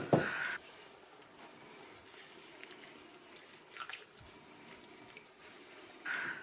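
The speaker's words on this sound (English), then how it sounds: "And then add some water, but not too much." Water runs from a tap into a pot of Hungarian beef stew (pörkölt) holding meat and tomatoes, with short splashy bursts at the start and end and a quiet hiss between.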